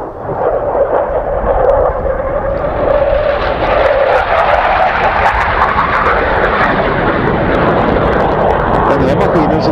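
Saab J35 Draken jet fighter flying, shown in its final J35J version: loud, continuous roaring jet engine noise that holds strong and steady throughout, with a voice speaking under it.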